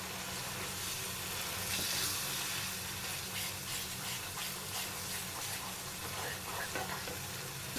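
Crumbled paneer is stirred and fried in oil in a pan over medium heat, giving a continuous close sizzle broken by repeated scraping and stirring strokes, with no voice over it.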